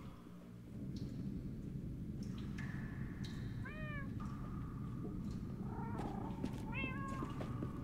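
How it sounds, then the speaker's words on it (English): Cats meowing in the video game Minecraft Story Mode, with several short, rising mews heard over a steady low rumble of game ambience, moderately close, with no voices. "That almost sounds like... cats?"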